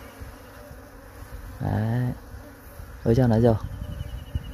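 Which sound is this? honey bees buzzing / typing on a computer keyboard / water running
honey bees buzzing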